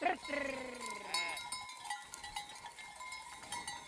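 Sheep bleating on a Sicilian farm, several calls overlapping at the start, with cowbells clinking and a lively outdoor mix of people's voices and exclamations throughout.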